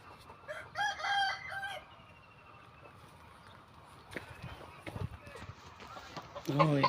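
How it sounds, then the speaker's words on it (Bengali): A native rooster crows clearly in the first two seconds, a bright rising call close by. Quieter scattered knocks follow, then a loud burst at the very end. "একদম দেশি মোরগ।"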